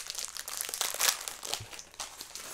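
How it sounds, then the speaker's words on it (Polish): A plastic bag of LEGO Speed Champions Chevrolet Corvette C8.R pieces being torn open and handled: steady close crinkling and rustling with crisp crackles, heard alone. "teraz możemy sobie rozpakować worek numer 2"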